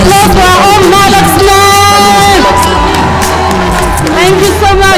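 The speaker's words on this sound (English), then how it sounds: "A big round of applause for our own Alex." An audience at an International Women's Day event cheers, whoops and shouts loudly for a performer named Alex, with crowd noise sustained throughout and a music-like tonal layer underneath.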